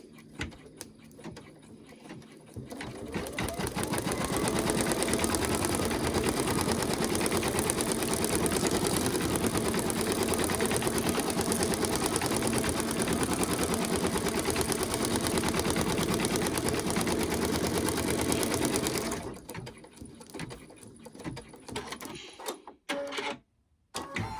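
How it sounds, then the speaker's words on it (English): An embroidery sewing machine stitches an in-the-hoop design in a steady, loud, rapid run lasting about fifteen seconds, then stops, leaving a few light clicks. "now it's going to stitch over this"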